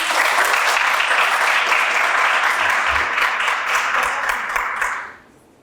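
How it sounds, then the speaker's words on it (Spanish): An audience at a literary lecture applauds a speaker with steady, dense clapping that holds at full strength for about five seconds, then fades out quickly near the end. "Un aplauso por acá para Ángela."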